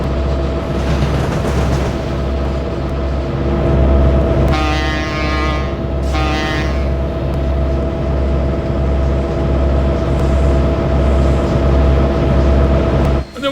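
A Fairbanks-Morse Trainmaster diesel locomotive of the Pennsylvania Railroad arrives with a loud, steady droning engine throb. Two brief, bright horn-like blasts rise over the drone midway through.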